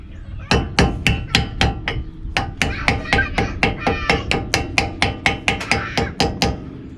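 Hammer tapping a front brake part back into place on a 1990 Chevrolet G20 van, a long series of sharp metallic taps in quick rhythm, close and loud, with a short pause early on.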